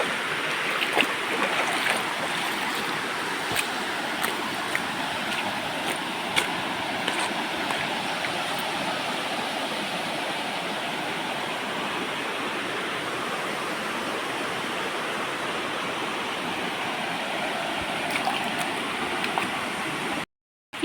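A river stream flows steadily and close by, its broadband rushing wash holding even for about twenty seconds with a few faint clicks on top and no voices.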